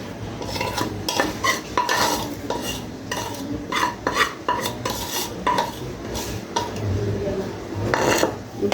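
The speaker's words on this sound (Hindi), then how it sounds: "इनको हम अच्छी तरह से फेंट लेंगे" An egg mixture with spices and noodle seasoning is whisked in a bowl, producing quick rhythmic clinks and scrapes of a utensil against the sides in repeated bursts, close and clear with no voices.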